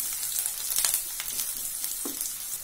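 Three slit green chillies fry in hot oil, a steady bright sizzle with soft crackles and a brief stir scrape, close and continuous throughout, no talking.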